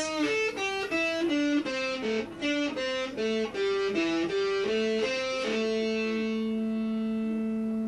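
A distorted electric guitar plays a quick run of single notes from a song's solo in sequence, ending on a sustained held note that rings out.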